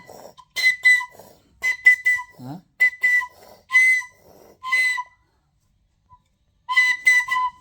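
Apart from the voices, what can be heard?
child blowing a toy whistle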